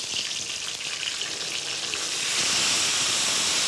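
Wine poured into a hot frying pan over a gentle flame sets off steady sizzling that swells louder toward the end, close and without talk.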